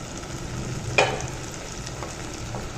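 Fish frying in a spiced masala paste in a pan, a steady close hiss of sizzling with one sharp clack of stirring near the start and faint scrapes after, no talking.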